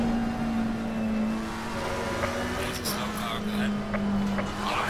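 Race cars in Assetto Corsa Competizione at Kyalami drone steadily in a tight pack, a constant engine tone holding under the action with brief sharper bursts as the cars jostle close together.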